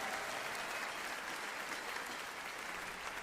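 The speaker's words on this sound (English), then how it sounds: "let's give a big round of applause, please, to Cynthia Weiss, Bonnie Suffrage, and Jerry Ansem" An audience applauds volunteers at a university spirit streamathon event, a steady dense burst of clapping heard alone at moderate distance throughout.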